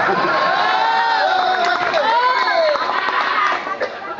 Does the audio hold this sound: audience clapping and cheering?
yes